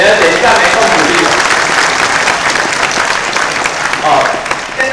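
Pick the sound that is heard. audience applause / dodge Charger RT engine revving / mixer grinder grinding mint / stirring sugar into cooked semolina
audience applause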